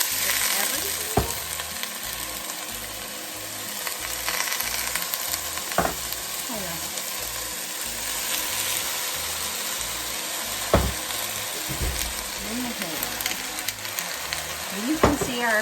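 Ham chowder ingredients sauté in olive oil in a pot, producing a continuous sizzle with occasional stirring scrapes and utensil clinks, backed by a low steady hum throughout.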